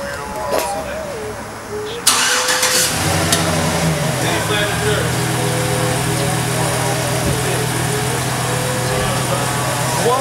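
A Chevrolet Silverado work truck fitted with a loud car audio system cranks and fires up, its engine settling into a steady low rumble that runs loud and close through the rest of the clip, with some voices talking beneath it.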